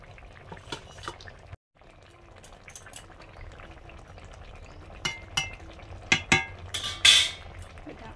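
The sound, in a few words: small mourala fish added to simmering curry broth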